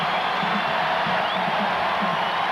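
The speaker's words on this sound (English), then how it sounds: "The crowd urging the Rockets out" The crowd in a basketball arena at the 1995 NBA Finals, Game 4, roars in a steady, dense wash of cheering that holds level the whole time, with no single voices standing out.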